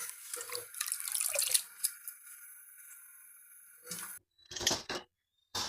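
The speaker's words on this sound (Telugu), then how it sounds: "చిన్న చిన్నగా కోసుకున్న గోంగూర ఉంది కదా, దాన్ని శుభ్రంగా కడిగేసుకొని నీళ్ళంతా పోయేందుకు ప్లేట్లో పెట్టుకుందాం." Water splashes and trickles as chopped gongura leaves are rinsed in a vessel, with close sloshing and draining for a few seconds, then quiet gaps broken by short bursts of handling and pouring.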